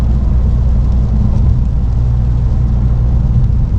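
A car drives along on a rainy day, giving a steady low engine drone and road rumble mixed with wind noise, close and continuous with no talking.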